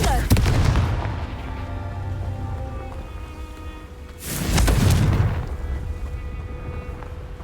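Blasting spell explosions in a Hogwarts video game: a rumbling boom near the start, then a second loud burst around the middle that swells and fades, set against a constant ambient game background.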